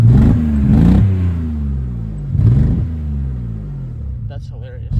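A BMW E39 with a misfire runs roughly, its engine pitch sweeping up and down through two loud revs in a low, uneven rumble, with a brief voice near the end.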